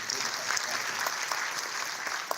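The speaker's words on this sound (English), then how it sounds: "So these countries need to be applauded for their outstanding achievement" Audience applause at a medical laboratory closing ceremony: steady, dense clapping from a crowd filling the room, sustained at an even level with a few sharper individual claps standing out near the end.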